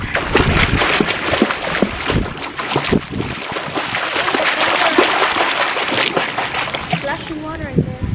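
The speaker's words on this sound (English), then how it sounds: "Splashing water in there." Swimming in water at Tabuelan, Cebu, with repeated irregular splashes and churning water close to the microphone, mixed with wind buffeting and people talking nearby.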